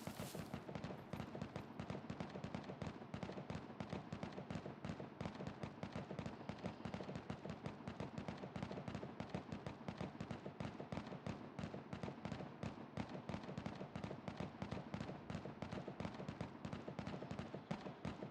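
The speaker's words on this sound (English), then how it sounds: "What's he shooting at?" Rapid, sustained automatic gunfire from the survival video game SCUM, a dense unbroken stream of shots running the whole stretch at steady loudness with no talk over it.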